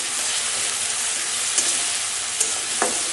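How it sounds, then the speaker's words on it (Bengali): Green chillies being stir-fried into a cooked ginger, garlic, onion and tomato paste for a Bengali fish curry, giving a steady close sizzle with a few soft scrapes of stirring. "কাঁচা লঙ্কা এভাবে ঢেলে কষিয়ে নিচ্ছি।"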